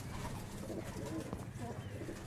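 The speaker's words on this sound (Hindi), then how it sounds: "जो स्क्रीन पे आप कबूतर मुलाहिज़ा कर रहे हैं" High flyer pigeons of the Shaheen, Ababeel and Taar breeds coo softly in a Karachi loft, a low steady murmur of several birds close by, with faint voices talking in the background.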